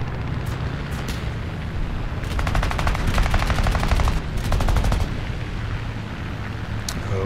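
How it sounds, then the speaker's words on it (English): Sustained aircraft machine gun fire from the J6B fighter in War Thunder air arcade, with two long rapid bursts of rattling shots over a constant loud engine drone and no talk. "Burn our guns out so we can reload."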